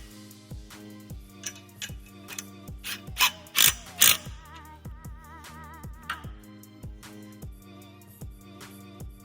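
A ratchet tightens the side bolts on a Maverick stand, rapid close clicking in steady strokes with a cluster of louder metallic clacks partway through.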